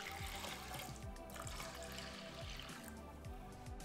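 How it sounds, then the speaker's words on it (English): Water pours steadily into a pot of soaked black sticky rice, a continuous splashing, gurgling stream up close with no pauses, filling the whole moment alone without any talk. "Pour in water."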